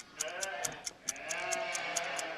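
A flock of sheep bleats in overlapping, wavering cries, several calls in quick succession against sharp rhythmic clicking in the background.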